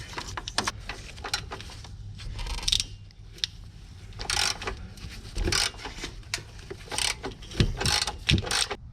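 Ratchet with a socket and 3-inch extension tightening bolts while installing a Rough Country winch plate on a stock Jeep bumper, rapid close clicking bursts with pauses and scraping metal handling in between.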